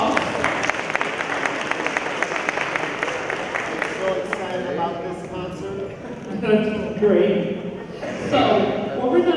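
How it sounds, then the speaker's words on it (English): Audience applause at an elementary school concert, a dense burst of clapping that fades after a few seconds as voices and chatter take over in the room. "let's give Mr. Davis a round of applause"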